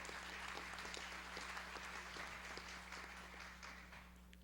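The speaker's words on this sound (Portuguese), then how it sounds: "Uma salva de palmas também." Sustained audience applause at a solemn ceremony honouring the Day of Portugal in a legislative hall, many hands clapping steadily and fairly far off, tapering slightly at the end, with no talk over it.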